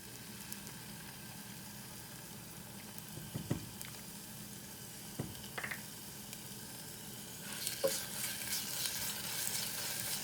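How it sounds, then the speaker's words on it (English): Ginger and garlic paste frying with onions in a pan, a quiet steady sizzle with occasional stirring scrapes and taps, the crackle growing louder toward the end. "we'll fry this until the raw smell of ginger and garlic is gone"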